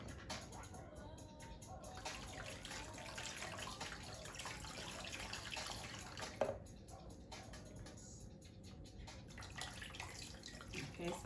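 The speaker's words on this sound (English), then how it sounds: "I'm just rinsing my fingers." Tap water runs steadily into a sink while fingers are rinsed under it, a continuous close splashing hiss with a few brief drips and changes in the flow.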